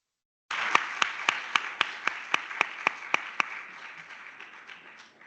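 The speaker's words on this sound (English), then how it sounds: "I would like you to invite you to applaud this brilliant panel that we've just had with us." An audience at a panel meeting applauds after the session, with sharp, evenly spaced claps standing out over a softer wash of scattered clapping that fades toward the end.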